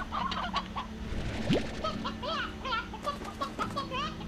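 Several chickens in the video game Slime Rancher cluck in short repeated bursts, moderately close, with a brief rising whistle-like tone partway through and a steady low hum underneath.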